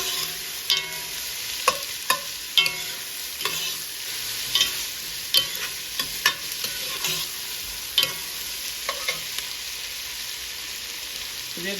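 Onions frying in a pan while being stirred, a steady close sizzle broken by repeated scraping stirs at irregular intervals, with no talk.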